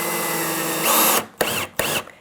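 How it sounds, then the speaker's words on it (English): Cordless power drill driving a drywall screw, a loud sustained whine that rises as it bites, then cuts off and gives two short bursts of trigger pulses near the end. "press down on the back of your drill"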